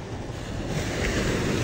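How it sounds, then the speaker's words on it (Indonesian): Ocean surf at Carita beach, a steady roar of breaking waves that swells slightly louder toward the end, with some wind rumble and no voices. "mau ombak besar"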